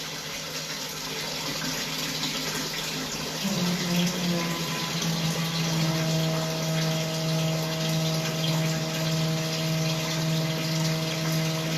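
A kitchen tap runs steadily while baking things are washed up during sponge cake making, a continuous close rush of water with a low pump-like hum beneath it.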